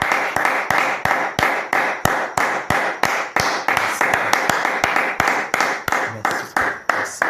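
A congregation claps in steady unison at a revival worship service, about three claps per second, loud and close, with faint cheering voices underneath.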